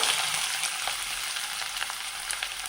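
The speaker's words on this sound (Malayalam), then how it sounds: "ഇനി നമ്മൾക്ക് അതിലേക്ക് ചെറുതായി മുറിച്ച് വെച്ച, പൊടിയായി മുറിച്ച് വെച്ച സവാള ഇട്ട് കൊടുക്കാം" Finely chopped onion sizzling in hot coconut oil in a pan, a steady bright crackle and hiss with occasional stirring scrapes, alone and close.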